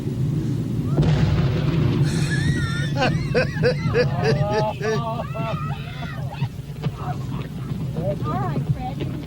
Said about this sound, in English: This explosion just gets me every time.